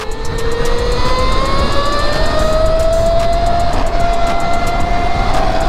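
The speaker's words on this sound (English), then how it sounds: "Electric YZ85 Supermoto" An electric Yamaha YZ85 supermoto motorcycle rides in mode 3 with a loud, continuous whine whose pitch climbs steadily as it accelerates, over heavy wind rush.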